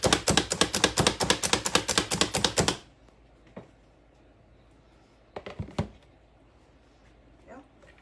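An onion being chopped on a cutting board for meatloaf, a rapid, even run of crisp knife strikes for nearly three seconds, then a near-silent pause broken by a few scattered taps and faint handling noises.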